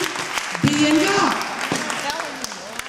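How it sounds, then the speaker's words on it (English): A church congregation applauds, a burst of clapping that runs under a preacher's voice and fades. "go ahead and clap for yourself"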